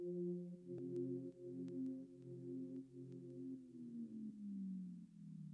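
Duplicated pluck synth sample, slowed and stretched out, giving a soft, drawn-out tonal layer that sags downward in pitch near the end, quiet and alone with faint ticks.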